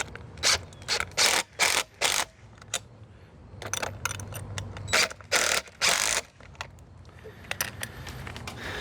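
A hand ratchet snugs down bolts on a box van body in quick bursts of sharp clicking, several short runs separated by pauses, close up and clear.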